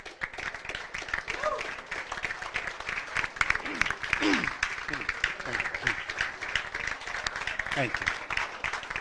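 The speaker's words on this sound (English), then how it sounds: "the student athletes give them a round of applause" Student athletes give a round of applause for coaches, parents and administrators at a sports awards event, steady clapping filling the room throughout while a voice speaks over it.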